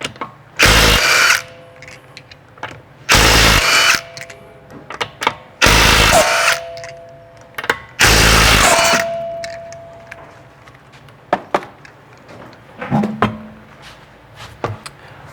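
Power tool fitted with a 19mm socket spinning off the wheel nuts of a 2008 Subaru Outback, four loud close bursts of whirring with short gaps, then light clinks of the nuts.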